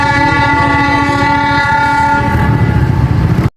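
The Nilgiri toy train at Coonoor sounds a loud, sustained horn close by while its wheels and carriages rumble and clatter underneath, building in intensity before cutting off abruptly.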